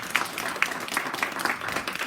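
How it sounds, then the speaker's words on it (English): An audience at a cancer prevention recognition event claps steadily for about two seconds, a moderate, even wash of applause with no voices standing out. "Everybody give them a big round of applause."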